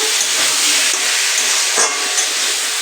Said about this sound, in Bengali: মশলাটা প্রায় কষা হয়ে গেছে।